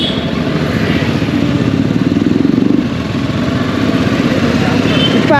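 A TVS Apache RTR 310 motorcycle riding with a steady, continuous engine drone and wind rush throughout, loud and close, with no clear pauses.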